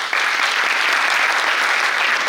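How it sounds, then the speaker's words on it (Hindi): At a theatre award ceremony, an audience breaks into dense, even applause that starts abruptly and holds steady for a couple of seconds, a full hall of hands clapping loudly with no voices over it. "तो जोरदार तालियां हो जाए"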